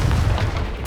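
A Confringo fire spell blast in Hogwarts Legacy comes as a loud, dense boom that rumbles throughout the moment and ends in a sharp crackle.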